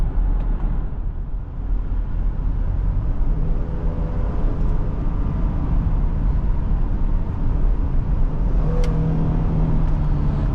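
A 2020 Ford Police Interceptor Utility with a 3.3L engine driving, a steady loud interior drone of engine and road noise with a rising, high-revving tone as it accelerates.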